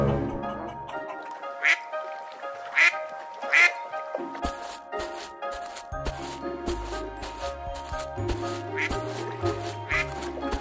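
A cartoon duck quacking in several sharp, nasal bursts over a quiet backdrop, then a bouncy music score comes in with more quacks scattered through it; no clear talking.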